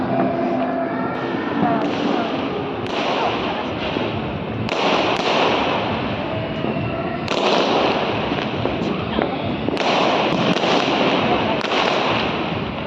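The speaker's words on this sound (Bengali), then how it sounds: "এই দেখো না ফায়ার ওয়ার্কস গুলো তোলো না।" New Year's Eve fireworks burst in a dense string of booms and crackling pops, some nearer and louder, with faint voices in the background.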